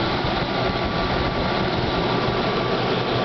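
An engine running on hydrogen gas fed through a line and compressor into the motor drones loud and steady with a dense, rough broadband roar and no pauses.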